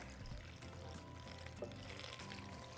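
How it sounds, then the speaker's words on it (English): Water pours steadily into a pot, a continuous gurgling fill with a rising hollow tone, close by and fairly quiet. "now we're just going to cover them with water"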